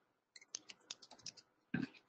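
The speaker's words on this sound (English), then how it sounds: "Sorry for typing." Someone types on a computer keyboard in a quick run of a dozen or so crisp clicks, ending in a louder burst of keystrokes, close and alone in a quiet room.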